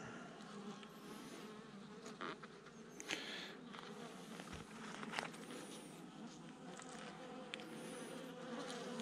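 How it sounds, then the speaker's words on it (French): Honeybees buzz around an open hive frame outdoors, a dense steady drone of many insects close by, with individual bees swelling louder as they pass near. "Attention, la petite abeille."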